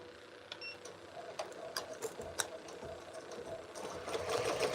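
A Ricoma MT-1501 embroidery machine stitches with a fast, even mechanical ticking that builds slightly louder toward the end, heard up close and alone.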